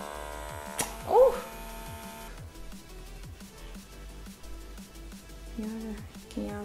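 Steady electric buzz of a handheld vacuum pore cleaner suctioning facial skin, heard close and continuous with shifting pitch as it moves, while a person talks over it.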